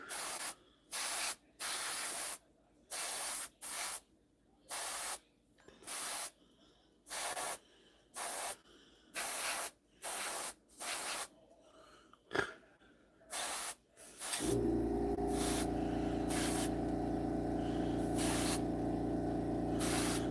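An airbrush being cleaned lets out a series of short, sharp bursts of spray at irregular intervals, close and hissy, and the bursts then give way to a longer continuous spray.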